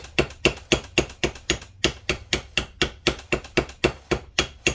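Steady series of light metallic taps from a brass hammer on a spinning transmission shaft during a T10 four-speed gearbox rebuild, evenly spaced and close, each a short sharp ring with a quick decay, no talking.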